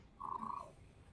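A house cat purrs close by in a quiet room, a soft, steady rumbling purr with a brief louder swell near the start, heard alone without talk.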